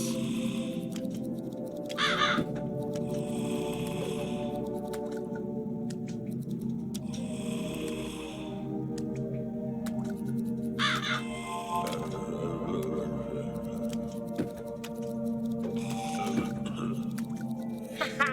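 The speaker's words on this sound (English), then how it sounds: "The crows are startling." Crows caw repeatedly in the video game Back To Bed, harsh calls recurring at intervals over a steady ambient game backdrop, moderately loud with no talk.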